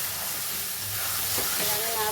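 Spice paste with salt fries in a pan for a chicken curry, a steady sizzle and hiss filling the background while a voice talks over it.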